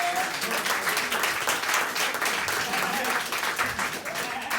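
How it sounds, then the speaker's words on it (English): An audience at a spoken word poetry event applauds with dense, steady clapping that fills the room, with voices mixed in. "Yeah, you can clap it up for Jared"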